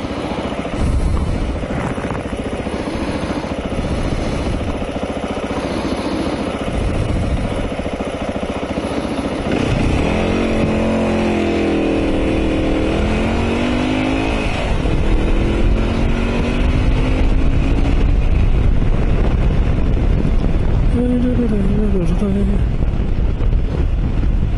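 Heavy, constant roar of wind buffeting an LS2 FF370 flip-up helmet on a Mondial Rx3i Evoyla motorcycle ride between Fethiye and Dalaman, loud and close, with engine drone underneath and short spoken bits midway.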